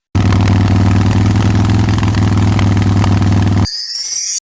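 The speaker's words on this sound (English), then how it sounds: "Motorcycle." A motorcycle engine runs steadily with a loud, low, continuous throbbing rumble and no speech, then cuts off abruptly near the end, after which a brief high, shimmering tone sounds alone.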